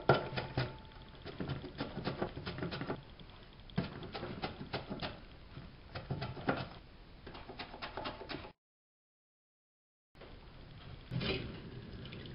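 Quick rhythmic scraping slices repeat in bursts as mushrooms are cut on a simple mandoline slicer, close and fairly quiet, with a brief silent gap.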